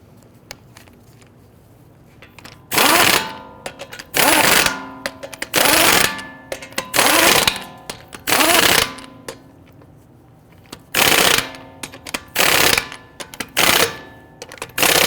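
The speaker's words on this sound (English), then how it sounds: "We want to go ahead and get all of our lug nuts started by hand, and then we'll snug them down." Power tool tightening lug nuts on a 2011-2023 Dodge Charger wheel, with about nine loud, close bursts of rattling hammering, each lasting roughly half a second, separated by short quiet gaps and no talking.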